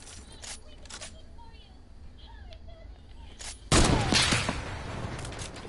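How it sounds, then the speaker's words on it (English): A sniper rifle shot in a video game lands as one sudden loud blast, followed by a sustained noisy tail. Before it comes quieter game ambience with faint tones, and speech runs under it. "Oh yeah, I just sniped"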